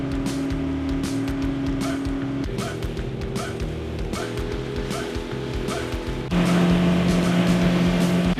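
A freshly serviced outboard boat motor drones steadily and loudly throughout, its pitch stepping up and down a few times as the throttle changes, with a brief faint yelp in the background.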